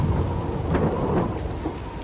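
A thunderstorm sound effect with lightning, steady heavy rain hissing throughout and deep rolling thunder rumbling underneath, loud and continuous with no voices.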